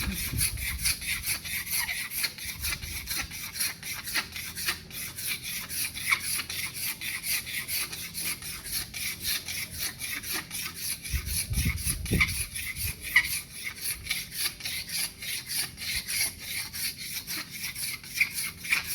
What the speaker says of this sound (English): So I just want to take a bit more wood out of it. Again, scrape and clean up.